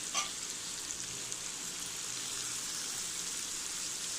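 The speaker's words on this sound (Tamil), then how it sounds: "இப்போ இது கூட வந்து நம்ம தக்காளி ஆட் பண்ணி அதையும் சேர்த்து கொஞ்சம் வதக்கி விட்டுக்கலாம்." Onions and tomatoes sauté in a pan for a Tamil palak dal, giving a steady, soft sizzling hiss that continues evenly throughout, fairly quiet and with no voices.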